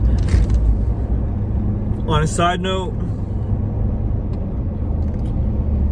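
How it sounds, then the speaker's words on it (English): Steady low rumble of a moving car interior with road traffic noise throughout, someone talking briefly over it partway through. "there's some crazy traffic today"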